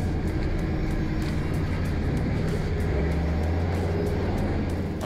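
A 4WD in low range with lockers engaged pulls a 6 m trailer off the line in first gear on the Gunshot track in Cape York. A steady, loud engine drone holds throughout, with a deep low-end rumble.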